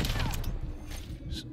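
Suppressed STG-44 assault rifle fire in a video game, set up in an SMG, high-recoil configuration, a few quick muffled shots with mechanical clacks, close and fairly loud, with a voice faintly present.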